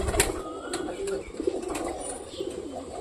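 A pigeon coos nearby in a house, with a few soft, repeated calls over light background noise and a brief flutter.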